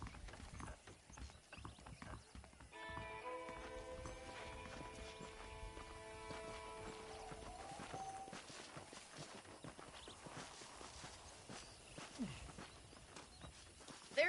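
Horse hooves clip-clop steadily in Red Dead Redemption, a soft rhythmic walking pace running throughout under gentle tonal music, faint and fairly close.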